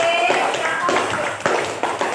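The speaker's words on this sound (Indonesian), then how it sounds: "Tepuk tangan untuk kelompok C" A classroom of students claps for a group that just presented, a dense burst of clapping and tapping with a few louder accents near the end, close and fairly loud.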